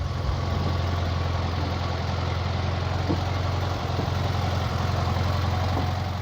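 Volkswagen Beetle (Fusquinha) engine running, a steady, even low hum with a droning rumble throughout, loud and close.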